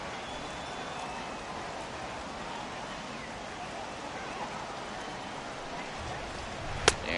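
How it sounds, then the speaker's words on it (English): Heavy rain pouring steadily at an outdoor baseball game, a continuous even hiss of drops on surfaces with a brief sharp knock near the end. "the heavy stuff has finally arrived. This has got to be the hardest rain we've seen all afternoon"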